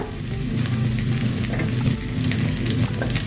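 Onion and green chillies frying in a pan for appam, a dense continuous close sizzle with stirring scrapes and a low steady hum underneath, no speech.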